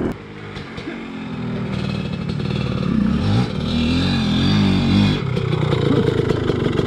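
A Yamaha YZ250X two-stroke dirt bike revs and bogs as it is ridden over rough ground nearby, its engine note rising and falling unevenly under clattering off-road noise.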